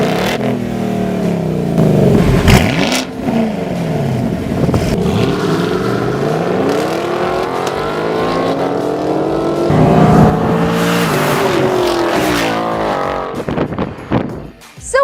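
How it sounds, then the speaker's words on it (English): American muscle cars, including a 2018 Mustang, rev hard and accelerate in a drag race, their engine notes rising and falling in long sweeping surges over about fifteen seconds, loud and close. "Let's settle this the old American muscle car way, a drag race."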